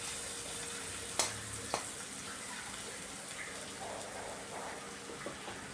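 Onions fry crisply in a pan while being stirred repeatedly, producing a soft continuous sizzle with a couple of sharp clinks from the utensil early on, fairly quiet and with no speech.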